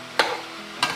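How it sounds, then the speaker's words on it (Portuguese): Chicken sizzling in a pan, frying until golden for the sauce of bolinho de frango: a steady crackling fry with two quick stirring scrapes. "Agora vai fritando até ele dourar, refoga até ele dourar para fazer o molho"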